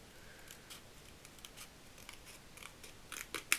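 Paper pieces for a homemade advent calendar are cut with scissors in quiet, sparse snips that grow louder and quicker in a short burst at the end, with nobody speaking.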